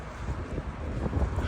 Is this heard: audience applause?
no